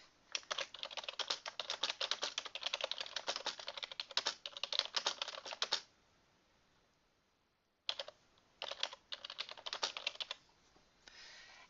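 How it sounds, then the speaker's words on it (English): Fast, close clatter of typing on a computer keyboard, a dense run of keystrokes that stops for about two seconds of near silence before another short burst resumes. "I'll just click text, and now I can type whatever text I want to"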